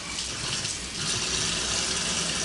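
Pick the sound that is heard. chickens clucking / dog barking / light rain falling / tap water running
tap water running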